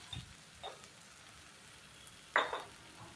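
Spice paste for a vegetarian cauliflower korma frying in oil and being stirred, a faint steady sizzle broken by a few short scraping stirs, one louder scrape near the end.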